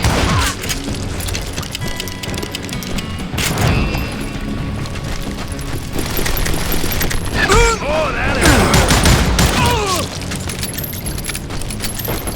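Gunfire in the Call of Juarez Gunslinger video game: loud, rapid revolver and rifle shots crack out in clusters, mixed with ricochets, metallic clatter and screams from enemies being gunned down.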